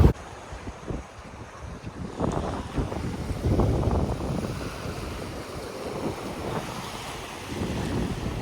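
A sea breeze blows on an overcast day at Alykes on Zante, Greece. Wind buffets the microphone in uneven gusts, with a soft wash of waves behind it and no one speaking.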